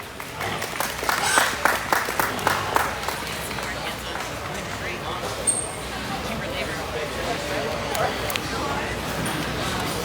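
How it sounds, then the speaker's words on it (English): Applause rises from a crowd at a junior crossbred gilt livestock show, scattered claps mixed with hoof and animal movement on the arena floor, with a voice over a steady background murmur. "So let's give them a round of applause as they head on back."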